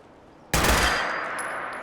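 A single loud, close gunshot rings out in the Fallout 4 VR video game, bursting abruptly and then trailing off in a long ringing decay with no speech over it.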